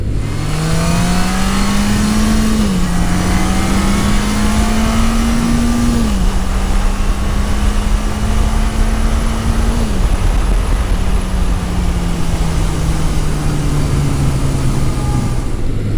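A classic Yamaha XS1100 motorcycle engine pulls hard through the gears: loud, steady roar with rising pitch, brief drops at each of three shifts, and wind noise throughout.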